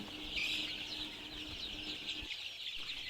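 Egyptian Fayoumi chicks cheep in a dense, high, continuous chorus from a crowded brood, close and steady, with low rustling beneath and no talking.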